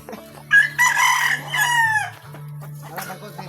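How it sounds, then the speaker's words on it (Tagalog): Backyard chickens, a rooster letting out a loud, drawn-out crow followed by softer clucking nearby, with a low steady hum running beneath. "Dito tana to sa background ninyo ang mga manok."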